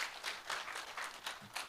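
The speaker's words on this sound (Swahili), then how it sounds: "Simujipigie makofi." A small audience claps at a public security forum in Kericho County, a short patter of applause with a few louder bursts.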